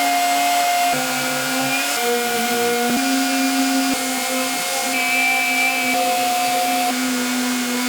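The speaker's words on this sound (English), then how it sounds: "A 240 grit sandpaper on a random orbital sander." A random orbital sander fitted with 240 grit sandpaper runs on wooden trim as a continuous loud whirring drone, its pitch shifting slightly as pressure changes, alone and close.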